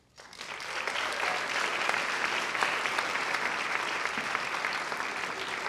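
An audience at a high school awards night gives sustained applause, dense and even, rising quickly and holding steady for several seconds from a full room of clapping hands.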